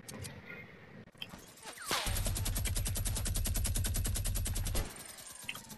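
A video game weapon fires a rapid, evenly spaced burst of automatic gunfire lasting nearly three seconds, loud and close, preceded by a single sharp shot and quieter game ambience.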